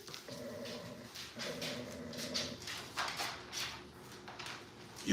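American bully dogs heard outdoors, with dog whimpers and faint movement noises in a steady background; no voices.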